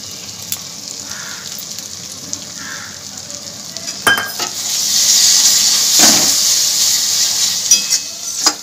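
Ground spice paste hits a pan with a little water while cooking a soybean paneer dish. After a few quiet seconds with faint clinks, a loud, steady frying sizzle surges up and carries on, broken by a few utensil knocks.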